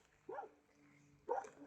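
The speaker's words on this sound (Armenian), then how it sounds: "ներսից է հաչում" A dog barks from inside a house, two short muffled barks about a second apart, moderately faint with a low hum between them.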